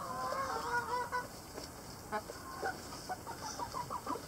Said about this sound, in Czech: Slepička hledá místo, kam by zanesla vejce.